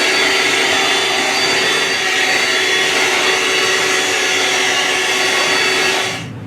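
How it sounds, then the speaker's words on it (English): A vacuum cleaner sucks up sawdust left from drilling through a table, a loud, steady roar that holds evenly and then cuts off at the very end. "now I'm going to vacuum up all this sawdust and stuff"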